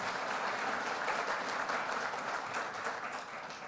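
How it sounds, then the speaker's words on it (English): Round of applause for presenters at a DelDOT winter workshop, a steady, even wash of clapping from a seated audience at moderate level, tapering slightly toward the end. "Give a big round of applause."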